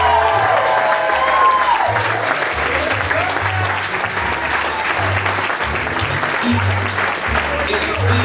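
Wedding guests at a reception applaud steadily and loudly for the bride's parents, a dense sustained clapping with cheers mixed in, while music thumps underneath.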